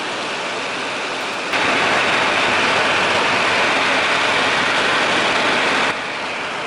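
Radial engine of a vintage Westland Lysander aircraft in flight, a loud, dense, steady roar that swells noticeably stronger for several seconds in the middle before settling back to its earlier level.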